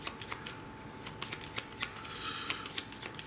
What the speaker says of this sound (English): I have to shuffle the rest.